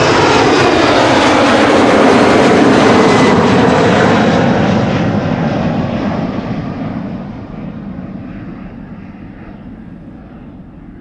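An airliner takes off from Amsterdam Schiphol's Polderbaan runway 36L on a sunny morning: a loud, broad jet roar that holds steady, then gradually fades as the aircraft climbs away.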